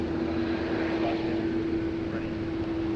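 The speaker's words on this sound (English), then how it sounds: "Air Canada flight 34 heading around to the holding point." An Air Canada airliner taxiing toward the holding point at Sydney Airport in heavy rain: a faint, even engine hum with a steady drone tone, over a constant hiss.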